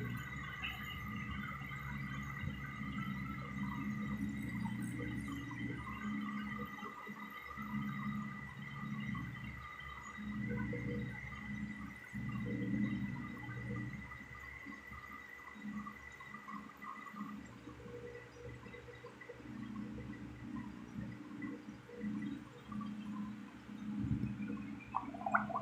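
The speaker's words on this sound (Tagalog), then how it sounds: "tunog ng air pump niya. Hindi siya maingay, oh." A repaired aquarium air pump runs quietly with its hose in the water, producing a low steady hum and soft continuous bubbling and gurgling throughout.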